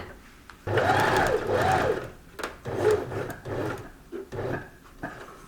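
A sewing machine stitches tie shoulder straps in short, close bursts of rapid mechanical whirring separated by brief pauses, as the seam is run, stopped and restarted.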